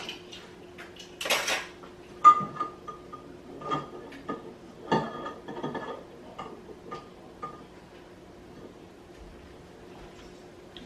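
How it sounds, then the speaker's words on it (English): Eggs cracked one after another into a separate bowl while making an easy pound cake, giving several sharp shell taps and clinks against the bowl's rim spread across the stretch, with quiet kitchen handling between them and no talking. "I'm cracking the eggs into a separate bowl."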